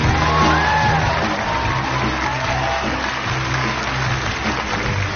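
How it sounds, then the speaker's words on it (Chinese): A television variety show's studio audience applauds and cheers to welcome a new band member, a dense, steady wash of clapping and shouts that holds evenly from start to finish with no clear talk. "掌声欢迎柏林。"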